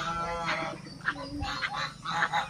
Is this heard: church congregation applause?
no